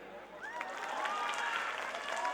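An audience claps at a live stage comedy show, with sustained applause of even intensity throughout and a voice faintly audible underneath.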